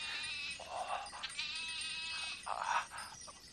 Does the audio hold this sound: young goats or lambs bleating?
yes